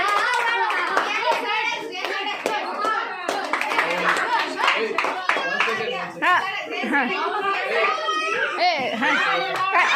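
Children clap their hands together in a loose, uneven burst while young voices chatter and call out over the clapping.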